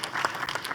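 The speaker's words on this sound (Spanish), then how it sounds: "Como moderador, un aplauso, por favor." An audience at a panel discussion on angel investing claps briefly, a dense patter of many hands heard at moderate distance.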